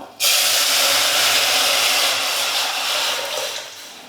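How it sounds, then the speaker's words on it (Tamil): A sudden loud, steady hissing rush as rasam is poured into a hot pan of tempering begins abruptly and sizzles continuously, fading slightly toward the end. "கரைச்சி வச்ச ரசத்தை ஊற்றிக்கலாம்"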